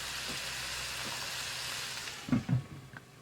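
Onions frying in a JML multi cooker, a soft steady sizzle that fades toward the end, followed by a few knocks and scrapes as the pot is handled or covered.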